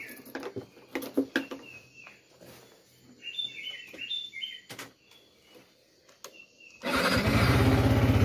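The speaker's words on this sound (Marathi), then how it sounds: "तर आता गाडीला करूया कोल्ड स्टार्ट." A motorcycle cold-starts near the end with a sudden loud engine rumble that continues, after a stretch of birdsong and scattered knocks in a quiet outdoor setting.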